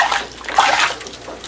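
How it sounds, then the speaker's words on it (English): Water splashed by hand over a small object, likely in a bathtub, heard as a brief, close splashy wash lasting about a second and a half. "Splash the water on it."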